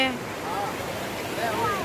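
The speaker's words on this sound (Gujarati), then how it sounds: "આમ સામે કેવા દરિયાના મોજ" Sea waves wash on the shore near a seaside temple, a continuous surging rush with wind across the microphone, with no clear talk over it.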